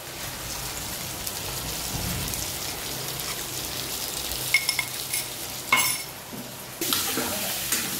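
Diced potatoes with crushed ginger and garlic frying in a pan for a pork dish, a steady loud sizzle and crackle close by with a few stirring clatters and no talking.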